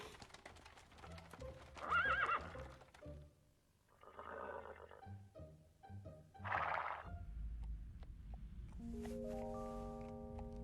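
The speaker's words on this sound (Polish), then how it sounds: "To brzmiało jak jakiś dziki koń" A horse neighs and whinnies several times at moderate volume, with hoof clip-clops between calls, ending in a low steady tone.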